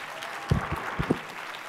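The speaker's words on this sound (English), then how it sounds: "give him a big applause" Audience applause after a corporate responsibility partner speech, a short burst of clapping with a few louder claps standing out, moderately loud and fading within about two seconds.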